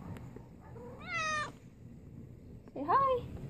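A kitten meows twice indoors, a rising cry and then a shorter, sharper one, close to the microphone over a quiet, low background hum.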